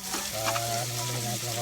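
Chopped onions frying in a pan for Filipino chicken adobo, a steady sizzle close by, with a tonal hum or voice faintly underneath and stirring scrapes breaking through.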